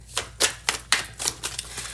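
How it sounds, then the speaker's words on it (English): A deck of tarot cards is shuffled at close range, giving a rapid, uneven series of crisp clicks and riffling bursts over about two seconds. "I'm going to go ahead and shuffle this clarifying deck"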